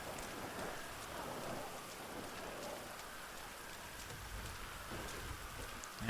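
Steady rain falls in a GTA Online game world, a constant broadband hiss of drops on surfaces that stays even and unbroken, with no voices over it.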